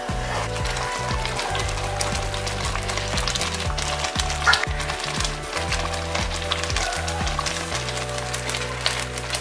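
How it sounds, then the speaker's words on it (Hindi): Thick mango puree and sugar cooking down for barfi while being stirred, giving a steady bubbling sizzle with repeated scraping knocks of a spoon against the pot throughout, close and continuous. "इसको अच्छे हिलाते हुए पका लें।"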